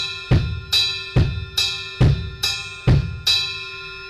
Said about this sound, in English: And what I'm going to do for this funk beat is change the ride rhythm to just the and of the beat.